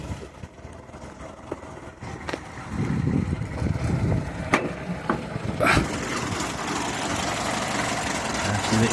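A Ford Zephyr MKIV engine idles low and somewhat unevenly, running with a fresh exhaust and a suspected air leak, a steady close rumble with a few clanks over it.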